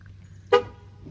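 A single short chirp from a car horn as the vehicle is locked, loud and abrupt over a low background hum.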